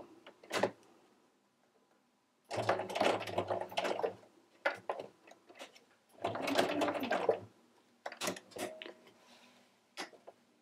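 A sewing machine stitches bulky microsuede fabric in two longer bursts of rapid mechanical chatter, separated by short clicks and pauses, fairly faint and close.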